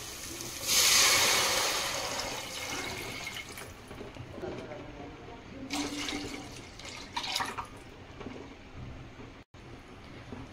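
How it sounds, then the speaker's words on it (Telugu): Water is poured into a cooking pot for boiling rice, a loud splashing stream at first that settles into quieter trickles and drips, with a voice speaking over it. "ఇప్పుడైతే ఎసరు కోసం నీళ్ళు వేసుకుందాం."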